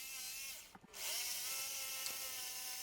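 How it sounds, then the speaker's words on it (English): A jigsaw cuts through thick metal plate with a steady, loud, buzzing whine that dips and stutters briefly near the start, then runs on evenly. "I'm just sort of overhanging the edge of the plate so I can use the jigsaw and start cutting"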